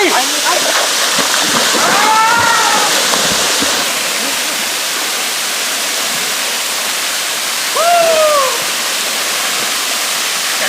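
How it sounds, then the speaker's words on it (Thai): Pha Nam Yod waterfall pours with a steady, close, broadband rush that runs the whole way through, with a couple of brief rising tonal calls heard above it. "แล้วเราก็มาถึงแล้วนะครับ น้ำตกหาน้ำหยดครับ"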